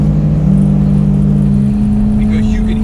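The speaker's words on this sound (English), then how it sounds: "you really notice mostly is when those 4 barrels kick in," A classic Plymouth Cuda's engine under acceleration as the four-barrel carburetor opens, a loud steady low drone heard from inside the car with a voice talking over it.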